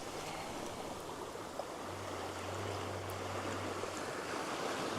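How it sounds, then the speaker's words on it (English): Small ocean waves at Point Vernon, Hervey Bay, wash and break in a continuous, even hiss of surf, with a faint low hum running beneath for a few seconds. "These Harvey Bay size waves, there's a good one."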